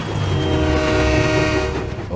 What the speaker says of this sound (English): Diesel had a generic American air horn.